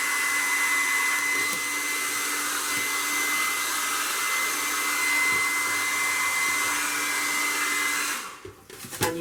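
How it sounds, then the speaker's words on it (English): A hairdryer blows steadily on glass paint, a constant close whirring rush that cuts off and clatters near the end. "you can then use a hairdryer"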